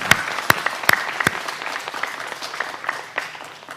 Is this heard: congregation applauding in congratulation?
yes